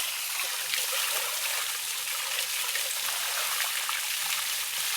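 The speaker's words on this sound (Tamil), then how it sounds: "போர் பைப்லேயே நல்லா தண்ணி எடுத்து சூப்பராக மாட்டை கழுவிட்டாங்க" Steady rushing splash of running water from a borewell pipe washing a cow, continuous and fairly close, like a hose spraying, with no talking.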